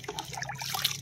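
Water poured over a container packed with dry leaves being made into compost, a brief close trickle and splash without talk.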